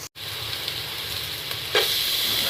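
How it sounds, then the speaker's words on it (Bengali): Onions and chilies fry lightly in oil with a steady, close sizzle and hiss that briefly cuts out at the start, then swells a little louder near the end as they are stirred, with no talking. "প্রথমে হচ্ছে পেঁয়াজ আর মরিচগুলোকে আমি ভেজে নেব হালকা করে।"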